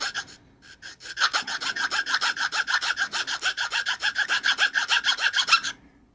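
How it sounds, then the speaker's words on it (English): A drill bit is rubbed back and forth across a diamond sharpening plate in a quick, even rasping rhythm of roughly twenty-five close strokes, then stops. "You could also do the same thing with your diamond plate like this."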